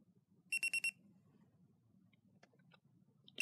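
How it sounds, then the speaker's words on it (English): A Sony ICF-C1T FM/AM clock radio alarm sounds a quick burst of four high, evenly spaced beeps, fairly quiet and close, followed by low background hum and a few faint clicks, with another beep starting at the very end. "It's not very loud, so that's kind of a problem with this alarm."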